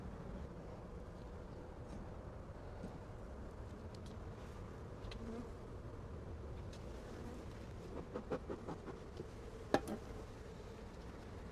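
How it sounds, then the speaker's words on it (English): Honey bees buzz around an open hive during an inspection. A low, steady drone hums throughout, with a few sharper clicks and knocks near the end, and no one speaks. "you've got the little worker bees right there"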